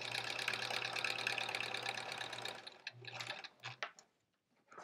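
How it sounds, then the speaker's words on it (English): A sewing machine stitches quilt pieces, running in a fast steady mechanical whir for a couple of seconds, then stopping and restarting in short bursts with clicks, up close and without talk. "we're actually sewing a whole basically extra"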